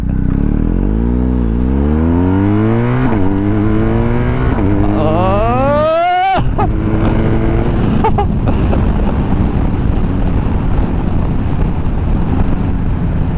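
A motorcycle launches hard at Polder Pass, its engine note climbing sharply through several rising pulls with gear changes, loud and close under heavy wind buffeting, then easing into a steady roar.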